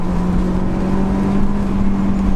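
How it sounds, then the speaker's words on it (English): A Honda S2000 pulling in second gear, its high-compression engine giving a steady, loud droning hum with a firm low tone throughout, close and continuous with no talk over it. "Second gear, real sort of high compression feeling engine."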